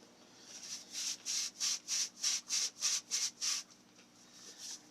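A Berkey water purifier filter element being scrubbed by hand: nine or ten rhythmic, even scrubbing strokes close up, with a short pause before a final stroke, and no talking.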